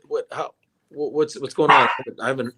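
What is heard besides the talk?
dog barking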